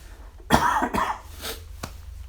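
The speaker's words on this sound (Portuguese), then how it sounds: "é só tosse" A couple of close, sharp coughs from one person, then a smaller throat-clearing hack after a short pause.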